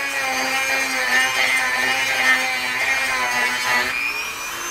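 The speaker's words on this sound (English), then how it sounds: "use my little Dremel tool." A small Dremel rotary tool grinding out a drilled hole that is slightly undersized, a steady high-pitched whine held close up for several seconds with a slight shift in pitch near the end.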